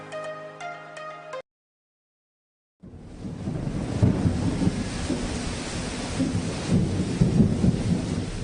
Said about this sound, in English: Good news, good news. The rains have started.